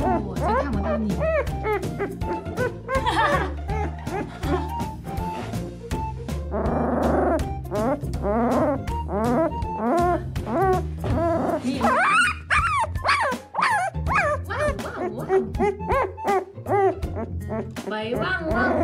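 A small, chubby, fierce puppy barks steadily and close by, with yips, growls and whimpers mixed in, while people talk over it throughout.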